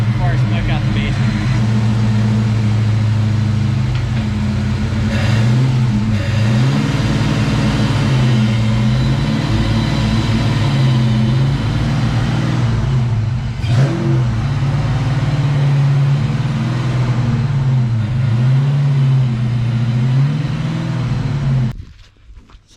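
A Ford Foxbody car engine, freshly fitted with new injectors, revs loudly up close in a basement garage, rising and falling in a repeating wavy pattern over a sustained idle before cutting off abruptly, with speech over it.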